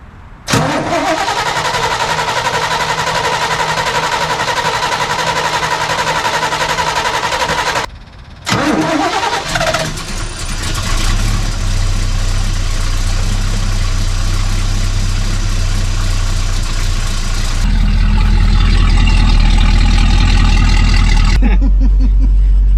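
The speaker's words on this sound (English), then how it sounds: "We're gonna put some fuel in it and see if the thing will start." A wrecker truck engine, just refuelled, cranks loudly up close, stalls briefly, then catches and settles into a steady, rumbling idle that swells toward the end.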